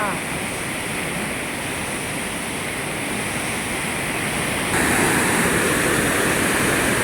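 Swollen Godavari river rushing in spate near a bridge after heavy rain, a loud, constant roar of churning water that grows slightly louder toward the end.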